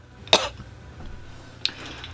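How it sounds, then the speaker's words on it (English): A person gives two sharp dry coughs a little over a second apart in a quiet room while doing makeup. "it got me coughing"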